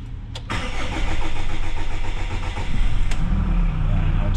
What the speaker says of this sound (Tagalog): So tingnan nyo yung cranking nito